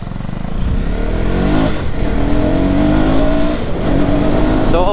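A KTM Duke 250 third-generation motorcycle accelerating at full power, its engine note climbing in loud, close rising sweeps through several gear changes with brief dips between them.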